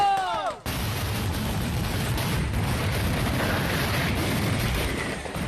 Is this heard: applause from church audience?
no